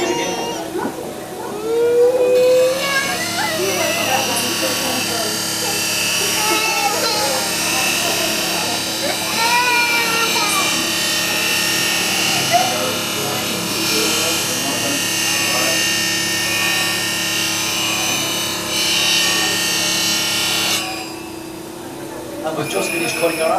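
Waterford crystal glass pressed against a spinning cutting wheel to cut an arc, a loud steady grinding whine with a sustained hum through most of the clip, while someone talks over it and voices echo in the factory.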